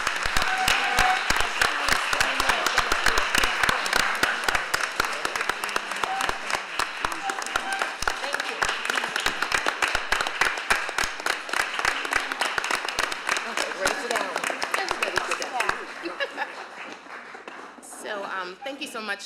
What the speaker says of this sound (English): Please join me in a round of applause to welcome the new CHA